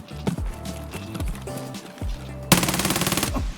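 A 9mm Vector submachine gun in the video game Escape From Tarkov fires a rapid, tight burst near the end, preceded by scattered footsteps and single gun sounds, all close and loud.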